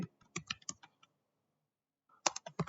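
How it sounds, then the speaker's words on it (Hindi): Keys tapped on a computer keyboard while entering a short line of text into a video editing tool, heard as two close bursts of quick irregular clicks separated by a silent pause. "अब मुझे जो है इसमें थोड़ा सा टेक्स्ट लिखना है, तो उसके लिए मैं यहाँ पर टेक्स्ट इंटर करूंगा"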